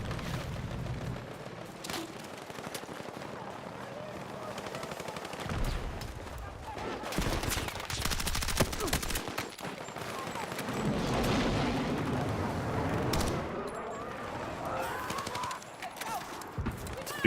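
Automatic gunfire rattles in the video game Battlefield 6 in long sustained bursts, loud and close. The firing is dense and continuous, with short breaks and some heavier booms mixed in.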